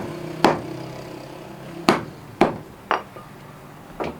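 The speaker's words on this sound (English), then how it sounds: "he basically hit it with the hammer to finally get it stuck to it" A hammer strikes a handmade shoe to fix its sole at a handicraft workshop in Accra, Ghana: five sharp, close, loud knocks at uneven intervals with quiet gaps between.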